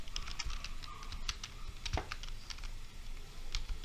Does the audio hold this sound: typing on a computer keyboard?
yes